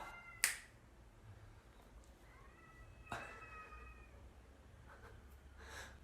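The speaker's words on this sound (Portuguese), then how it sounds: "A gata tá brigando lá no telhado com o gato da vizinha." Cats fighting on a roof, a few sharp brief yowls and cries spaced out over quiet background hiss, moderately distant and faint.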